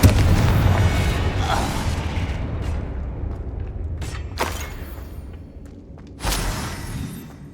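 A Confringo blasting-spell explosion in the video game Hogwarts Legacy: a loud booming blast that fades away, followed by a few sharper crackling bangs, one of them strong near the end.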